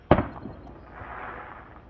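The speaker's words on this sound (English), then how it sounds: "someone's lighting off fireworks." Fireworks set off outdoors during a near-total solar eclipse in Lebanon, Ohio: one sharp, fairly distant bang, then a lingering low rumble and crackle that fades slowly. No one speaks.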